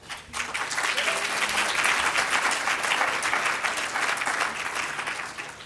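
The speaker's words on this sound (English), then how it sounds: "I ask all of you to clap" An audience at an annual awards dinner applauds the sponsors, a dense burst of hand-clapping that swells quickly, holds steady and loud for several seconds, then begins to ease off.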